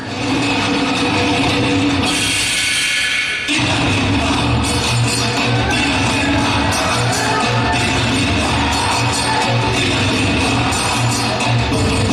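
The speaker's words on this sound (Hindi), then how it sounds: "तो जोरदार तालियों के साथ स्वागत कीजिए हमारी अगली परफॉर्मेंस" At a college annual function, a large audience fills the hall with loud, dense applause and cheering that rolls on continuously, with a brief dip before the roar resumes.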